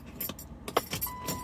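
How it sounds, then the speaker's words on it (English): Keys jangle inside a car on a rainy day, a few bright metallic clinks clustered near the middle, close by, with the hum of the vehicle and rain in the background. "She took her keys. No, she didn't. There's her keys."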